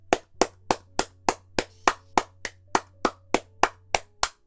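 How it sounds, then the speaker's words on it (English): Sharp, evenly spaced hand claps ring out alone, about thirteen strikes over a few seconds with a steady rhythm, close and loud above a faint low hum. "My chat liked the clapping."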